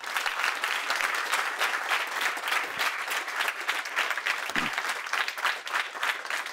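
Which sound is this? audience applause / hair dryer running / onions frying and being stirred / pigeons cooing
audience applause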